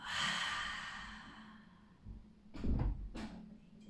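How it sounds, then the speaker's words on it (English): After a breath in through the nose, a big exhale follows as a long airy sigh. Softer breathing and a faint thump come after it, quiet and close during a yoga practice. "Take a big breath in through your nose. And a big exhale."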